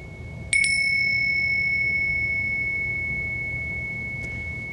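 A meditation bell is struck once and sustains a pure ringing tone that decays slowly. A faint second touch comes near the end, in a quiet room with no talk.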